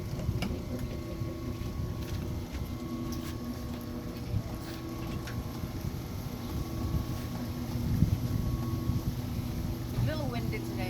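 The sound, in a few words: wind blowing on a boat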